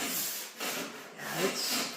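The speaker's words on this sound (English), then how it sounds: "if you guys want to know what lacquer looks like when you're sanding it, I'll show you right here" Lacquer being sanded with 40 grit sandpaper, close rough rasping strokes, about three or four back-and-forth passes with short pauses between them, no voices.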